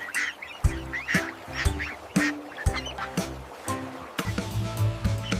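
Cartoon duck quacks in a children's nursery rhyme sound as a run of nasal calls at a steady beat, close and moderately loud, with a soft splashing of water underneath.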